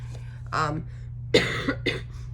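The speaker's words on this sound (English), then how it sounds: "This cough will not go away." A few harsh, close coughs break out in short bursts against a low steady hum.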